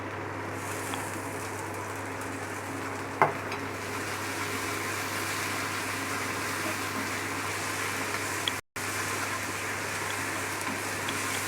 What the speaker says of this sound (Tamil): இப்போது தக்காளி வெட்டி வச்சுருந்ததை இதில் சேர்த்திடலாம்.